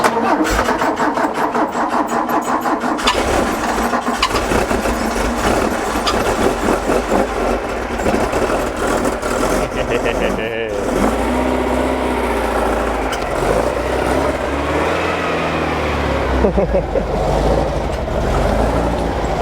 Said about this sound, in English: We got a stroke Beetle engine back here attached to this man's dune buggy